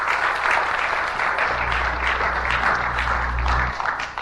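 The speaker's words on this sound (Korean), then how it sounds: "승우야, 수고한테 박수 한번 해줘" A church congregation breaks into sustained applause, a thick, continuous wash of many hands clapping with a low rumble underneath. It holds steady and loud, then eases slightly at the end.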